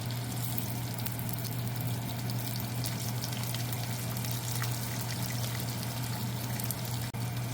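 Tuyo, dried fish, sizzling in a pan in a home kitchen, a steady close hiss that runs unbroken throughout.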